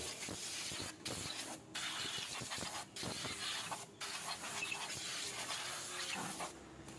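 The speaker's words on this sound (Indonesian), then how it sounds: "kemudian kita semprot menggunakan kompresor ya, biar bersih semuanya" Compressed air sprayed from an air compressor to clean petrol-washed parts, a loud, close, continuous hissing blast broken by several brief pauses where the trigger is released, with no speech.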